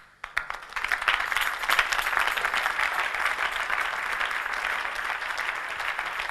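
A church congregation breaks into sustained applause during a sermon, dense steady clapping rising quickly and holding loud for several seconds.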